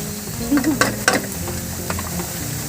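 Ginger and Chinese bamboo shoots stir-fry in a heavy, thick wok, sizzling steadily while a spatula scrapes and tosses them in a few sharp strokes, with no talking.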